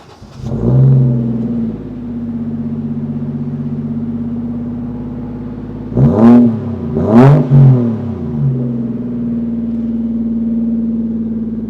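A warmed-up turbocharged Toyota Chaser Tourer V (JZX100) engine starts and idles loudly nearby, then revs sharply twice in quick succession before settling back to a steady idle.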